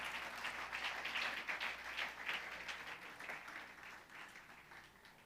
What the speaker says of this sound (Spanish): Dale un aplauso al Señor este día.